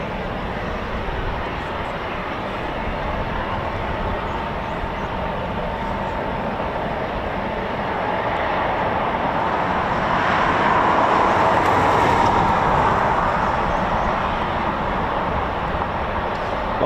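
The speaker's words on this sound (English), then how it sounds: "I think that was like 4 Typhoons just taxied down there." Several Eurofighter Typhoon FGR4 jets taxi at RAF Coningsby, their engines giving a loud, steady roar with a broad whine that swells slightly partway through.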